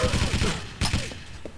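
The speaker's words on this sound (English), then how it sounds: "Get a machine gun kill." A machine gun fires in Quake 3 Arena as a fast string of sharp shots, then a louder burst, then a few scattered impacts tailing off.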